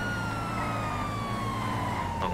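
Police car siren in the video game GTA 5 Online, a loud, steady electronic wail that holds continuously and close throughout, with no talk over it.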